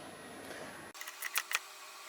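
A torque wrench tightens a 12 mm brake bolt on a Honda NC700X motorcycle, giving a few quick, close, faint mechanical clicks after a soft hiss cuts off.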